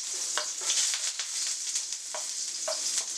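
Garlic sizzles in a hot wok with olive and sesame oil, a dense, steady crackling hiss broken by occasional light clicks from stirring, close and uninterrupted, with no voices.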